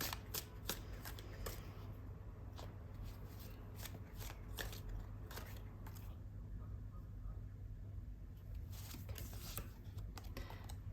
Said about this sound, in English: We're going to pull one more as an advice card.